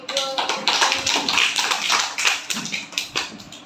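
A class of children claps hands in a classroom, with bursts of quick, close claps running under a teacher's voice.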